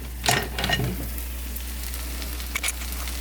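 Southern-style corn fritters fry in a pan with a steady, close sizzle, and a few sharp clicks and taps come early on.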